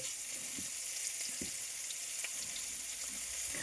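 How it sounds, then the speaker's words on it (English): Oil sizzling and crackling steadily as prawns fry, a constant hiss with small pops and a few faint clicks of a utensil. "Can you hear that? It's frying right there."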